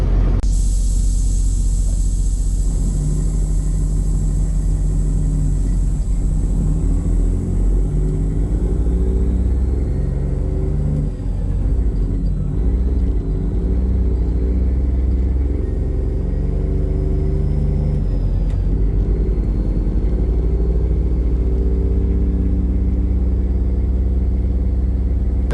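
Car engine cruising at steady highway RPM, a loud continuous low drone with road rumble and wind noise that holds steady for the whole stretch, with slight shifts in load.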